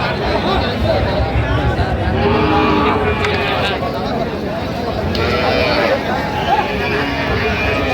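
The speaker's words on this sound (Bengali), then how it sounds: "শাহিওয়ালের ষাঁড়" Cattle, including a young Sahiwal bull, low at Ambari village cattle market amid a constant crowd murmur, with people talking close by throughout.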